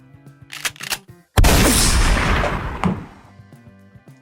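A single loud gunshot blasts in a video game, cutting sharply through quiet tonal music and ringing out for over a second before fading back under the score.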